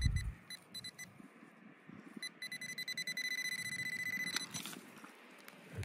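Metal detector giving a steady electronic signal tone while sweeping a field, a faint high pulsing beep that settles into a sustained whine, quiet and close with soft rustling below.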